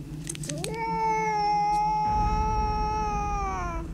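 A cat meows loudly and close, in one long drawn-out tonal cry that holds steady and then slowly falls away, with no talking over it.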